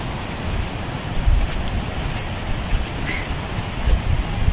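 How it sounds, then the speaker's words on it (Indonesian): Wind gusts through a forest of tall trees, a steady broadband roar with rumbling surges that swell around the middle and again near the end, close to the microphone. "Ini angin, saya takut."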